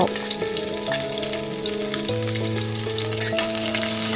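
Chilies sizzle steadily in a pan with white shallots for a stir-fried ginger and pork sausage dish, a constant close frying hiss with light stirring under background music.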